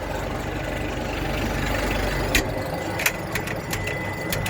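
A steady tractor engine drone runs throughout during field rolling, with a low rumbling idle and a few sharp clicks and knocks near the end.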